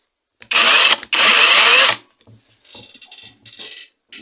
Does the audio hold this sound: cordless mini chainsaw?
yes